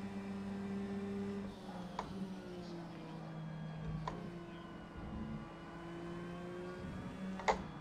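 A race car engine in a racing video game at Watkins Glen drones at a steady pitch that shifts slightly as it changes speed, faint and continuous, with a few sharp clicks.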